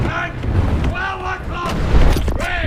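A tank cannon fires in War Thunder Mobile during Japanese medium tank combat, a loud boom over game noise and engine rumble, with a voice talking through it.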